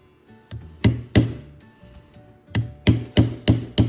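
A mallet strikes a beveling tool on carved leather in sharp close knocks, a few spaced hits followed by a quicker steady run of about five blows, with no talking.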